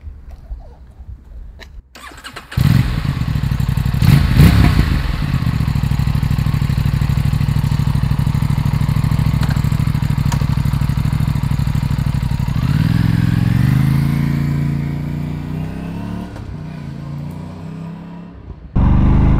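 An Aprilia RS457 sport motorcycle engine runs steadily at a loud, close idle, then revs rise and fall briefly before settling, with no talk over it.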